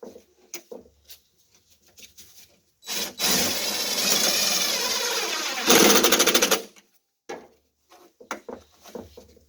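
A power drill drives a screw into a wooden bird bath form, a loud whirring burst lasting a few seconds that ends in a brief higher surge, framed by light handling knocks and clicks before and after.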